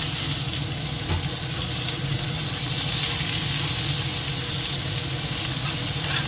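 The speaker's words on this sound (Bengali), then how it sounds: "একটু ভেজে নেবো আগে, পেঁয়াজটা একটু লাল করে ভেজে নিতে হবে।" Sliced onions frying in hot oil in a wok, a steady close sizzle with a broad hiss running without a break and no voices.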